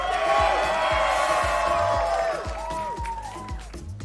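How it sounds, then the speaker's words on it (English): An esports arena crowd at a Valorant match between 100 Thieves and Leviatan roars and cheers loudly, with whoops and clapping, while rhythmic low thumps beat underneath and the noise eases off toward the end. "Crowd still alive and well. Trying to will the team to a win."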